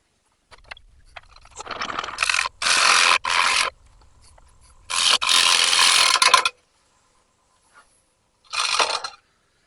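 Several bursts of cutting across the end grain of a walnut platter, a harsh rasping scrape repeated in short close strokes with quiet gaps, then a final brief pass.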